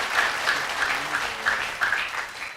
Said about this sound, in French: maximum d'applaudissements pour le manager de l'ASV Club